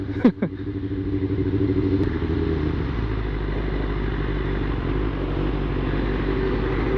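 Motorcycles including a Harley, a BMW GS and a Benelli passing nearby: a steady, loud engine drone with rumbling low tones and a brief clatter near the start, continuing without a break.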